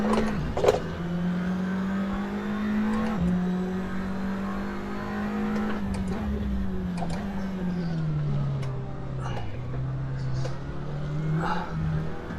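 A SEAT Leon TCR race car engine in the Assetto Corsa VR racing game whines steadily at high revs, dipping briefly at each gear change and climbing again, loud and close throughout.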